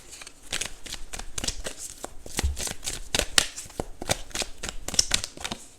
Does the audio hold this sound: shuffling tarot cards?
yes